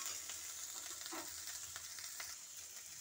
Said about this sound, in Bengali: এবার আমি ভালো করে তেল দিয়ে একটু আরও ভালো করে ভেজে নেব